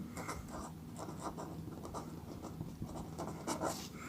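A pen scratches quickly across paper while a maths equation is written out, short strokes in an uneven rhythm, close but faint, with no talk.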